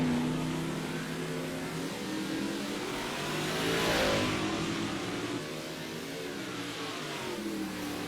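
Big block race cars roar through qualifying at Lincoln, one engine's loud revving note climbing and peaking midway, then easing back over a constant track roar.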